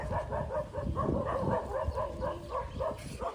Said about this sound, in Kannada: ಇದೇನು ನಾಯಿಗಳು